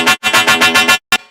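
A loud, buzzing synth bass plays a rapid run of bright, heavily processed notes, then one short final stab with a ringing tail.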